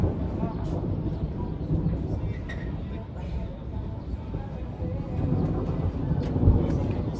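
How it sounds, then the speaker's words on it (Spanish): Thunder rumbles low and continuous through a rainstorm, a deep rolling roar with a heavier swell near the end, while people talk nearby. "Uy, nomás qué bonita viene tronando."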